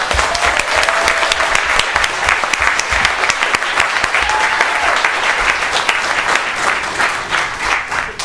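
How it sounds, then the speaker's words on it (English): A large audience claps steadily for three honorees at a Black History Month celebration in a city hall, loud, dense applause sustained throughout with no break. "Can we have one more round of applause for our 3 honorees?"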